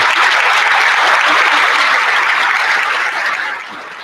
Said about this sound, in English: One more round of applause for Lily Spellman,